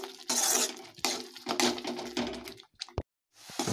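A spoon clatters and scrapes in a pan while paneer lababdar masala sweetened with honey is mixed, loud metallic clinks in quick uneven bursts that die out briefly before a final scrape, close up and without talk.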